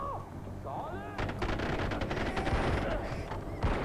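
Rapid bursts of gunfire in the video game Far Cry 4 crackle over a busy, noisy backdrop, with a few whooshing effects early on and a voice speaking underneath.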